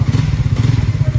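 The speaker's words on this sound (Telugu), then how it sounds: "ఇద్దరు బైక్ స్టార్ట్ చేస్తున్నారు" Royal Enfield Bullet Standard 350 BS6 motorcycles from 2023 are started for a bike pooja, settling into a loud, close, steady single-cylinder thump with a fast, even rhythm and no voices.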